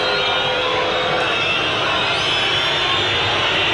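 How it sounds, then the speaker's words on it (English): A Wigan rugby league crowd whistles and jeers as a Manly kicker lines up a goal kick at the 1987 Wigan v Manly World Club Challenge. A dense, steady roar of distant massed noise carries thin whistles over the top throughout. "Listen to the whistling and the jeering of the Wigan crowd"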